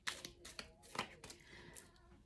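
A deck of playing cards is shuffled by hand with a few soft riffles and clicks, quiet and close, in short irregular bursts.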